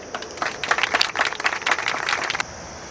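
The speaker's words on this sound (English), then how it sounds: "Maybe some clapping." Applause from a crowd dropped into a fishing outing, dense rapid clapping that runs steadily for a couple of seconds and then cuts off abruptly.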